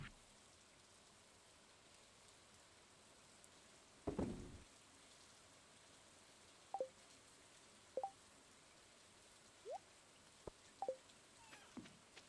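Soft, steady rain patter in the farming video game Stardew Valley, a faint continuous wash with a few short clicks and taps scattered over it, no voices.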